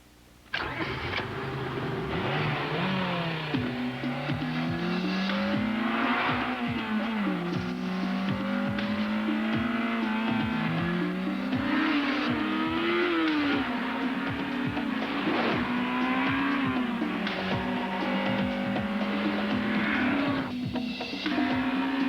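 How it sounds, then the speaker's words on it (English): An Acura RSX engine in a television ad revs up and down repeatedly, its pitch climbing and falling in sweeping surges. A loud, continuous drive fills the whole stretch alone. "All-new 200 horsepower Acura RSX"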